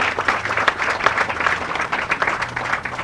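An audience at a Lowe's groundbreaking ceremony in Yorktown claps steadily and fairly loudly for a few seconds, a dense patter of many hands without speech.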